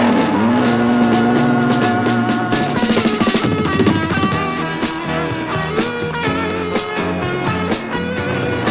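Vintage rally cars at the 1976 Canberra Rally rev and drive past one after another, engines rising and falling loudly in a rough, fluctuating roar.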